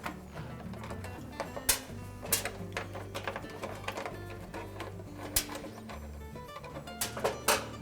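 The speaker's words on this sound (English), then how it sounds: "we're going to remove the knob on the switch that we're replacing. And we'll also remove the 2 screws that secure it to the back guard" A knob and two screws are removed from the burner switch on a Frigidaire stove back guard. Close mechanical clicks and whirring driver sounds repeat at uneven intervals, and no one speaks.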